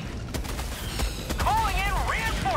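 Heavy machine gun fire in Helldivers 2 booms in rapid bursts amid a dense battle mix, with rumbling impacts and warbling whistling tones rising and falling over the shooting; a player speaks briefly.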